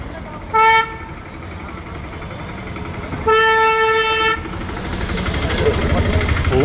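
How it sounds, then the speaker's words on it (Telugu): Road traffic near a railway station with a steady rumble of passing cars and vehicles, broken by two clear horn blasts, one short and one longer held toot, as engine noise swells toward the end. "ఇంకా కొన్ని వెహికల్స్ ఇంకా వస్తూనే ఉన్నాయి,"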